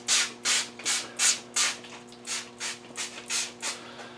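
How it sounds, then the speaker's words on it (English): Wet sandpaper wrapped around a sponge rubs a car paint panel in about a dozen steady back-and-forth strokes, close and even, each a soft hissing scrape, with no talking. "we'll just get it wet for the wet sanding process"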